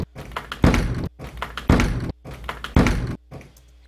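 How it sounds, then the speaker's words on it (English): Door opening and closing used as a sound sample, heard as a series of four loud thumping knocks and clunks in an even rhythm, close and dry, with a quieter tail at the end. "Some door opening and closing noises."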